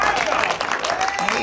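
Church anniversary congregation applauding as honorees come forward, a dense wash of clapping with crowd noise, continuous and fairly loud, mixed with voices and a steady tonal hum through the short stretch.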